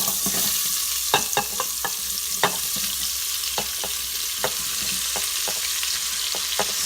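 Onions sautéing in an Instant Pot, a steady soft sizzle with a dozen sharp scrapes and clicks of a utensil stirring against the pot, close and without talk.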